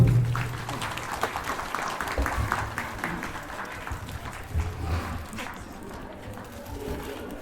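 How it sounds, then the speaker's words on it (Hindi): A congregation applauds at a church Christmas gathering of the Jhirpani congregation in Rourkela parish, with steady crowded clapping that goes on throughout under a speaking voice. "ताली मारिए पड़ दो"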